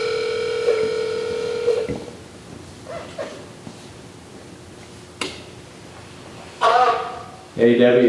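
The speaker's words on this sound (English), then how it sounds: "I'm going to try calling her at her house and put it on speaker" A telephone on speakerphone gives a steady, loud dial tone for about two seconds, then quieter clicks and dialing sounds with faint room noise, and bright ringback-like bursts near the end.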